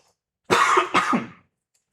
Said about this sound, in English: I'm coughing like a madman.